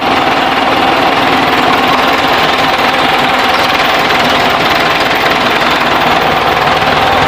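A Ford tractor engine idles close by, a continuous rattling drone with a fast, even mechanical chatter and no pauses.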